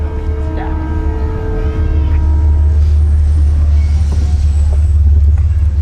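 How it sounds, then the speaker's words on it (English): A train rolls past close by as a steady, loud low rumble of wheels on rail that fills the whole stretch, with a faint high squeal and people talking over it. "So there's a train coming by."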